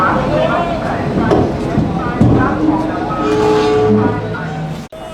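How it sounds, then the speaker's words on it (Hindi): A WAP-7 electric locomotive from the Vadodara shed couples onto a Jan Shatabdi Express, with clanks and metallic knocks over a rumbling station hum, a sharp bang near the end, and voices talking in the background. "यहाँ आप देख सकते हैं कि हमारी ट्रेन को हॉल करने वाला वडोदरा शेड का वेब 7 लोकोमोटिव अटैच किया जा रहा है"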